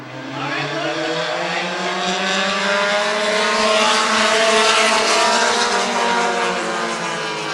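Race cars roar together through the first heat at Midvale Speedway, a loud, continuous layered engine drone with rising and falling pitch as the pack circles, and no talk over it.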